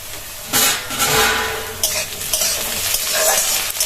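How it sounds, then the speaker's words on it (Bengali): Diced potato and very finely chopped onion sizzle in hot oil in a pan while a utensil scrapes and stirs in repeated bursts, close and fairly loud, with no talking. "আলুটা পেঁয়াজটা ভালোই ভাজছি"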